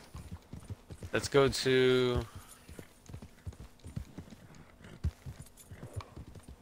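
Horse hooves in Red Dead Redemption 2, soft rhythmic clip-clop continuing throughout, with a loud tonal burst early on and someone speaking briefly over it.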